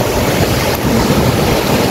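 Sea waves wash over a rocky beach in Indonesia, a loud, constant roar of surf mixed with wind buffeting the microphone, with no talking.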